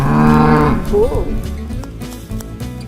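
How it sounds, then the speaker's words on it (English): A farm animal toy bull gives a short, deep lowing moo at the start, loud and close, followed by light nursery-rhyme music with no talk. "Bull."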